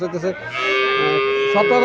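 A red calf moos at a village cattle market in Chandimura bazar, Comilla: one long, loud, drawn-out bellow that swells after a short opening grunt and holds steady near the microphone.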